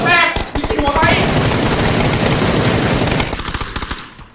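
Rapid automatic gunfire rattles in a PUBG match, dense bursts of shots for several seconds, loud and close, with players talking over it.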